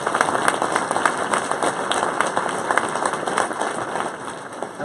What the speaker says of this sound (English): If you don't mind giving them another round of applause